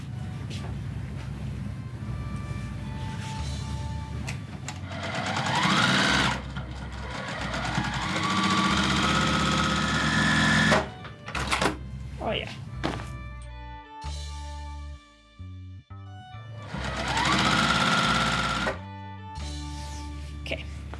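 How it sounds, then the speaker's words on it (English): A sewing machine stitches rows of a jelly roll quilt right sides together in several loud, steady runs broken by short pauses and thunks, with no talk over it. "I'm gonna go ahead, sew that right sides together and repeat that 10 through 12."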